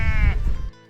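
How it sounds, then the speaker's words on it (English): A sheep bleats loudly and close by for most of a second beside a road leading up to the Bunglass Point viewpoint in Ireland, then the call cuts off abruptly into quiet. "Notwithstanding the inordinate amount of sheep you'll see along the way"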